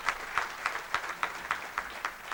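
An audience at a community event claps in a slow, even rhythm, about nine distinct claps at a steady pace, moderately loud in a hall.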